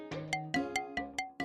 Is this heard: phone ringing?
yes